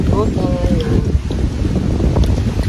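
Strong wind buffets the microphone with a low, rumbling roar, while a person talks briefly at the start over the gusts.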